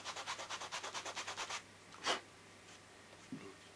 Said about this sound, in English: I'll use my sanding block